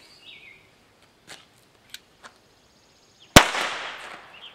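Faint ticks and clicks, then a single sharp, muffled pop close by as a primer fires in a TRMR airsoft grenade base, followed by a short hiss that fades.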